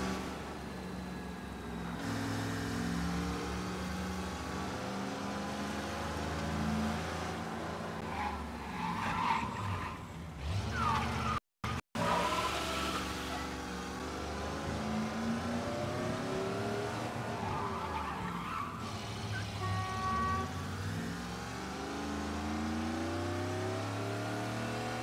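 Car engine in the video game Mafia Definitive Edition revving and accelerating, with tires skidding and squealing through a long stretch of driving, loud and continuous with a brief dropout midway.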